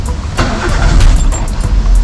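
A Daihatsu Sirion with an engine misfire is started: the starter clicks and cranks, then the engine catches and runs with a loud, steady rumble close by.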